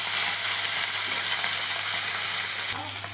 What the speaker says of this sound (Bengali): এবারে আমি মুরাল্লা মাছগুলো ভেজে নিব।